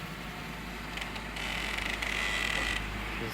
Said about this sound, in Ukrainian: скрипить.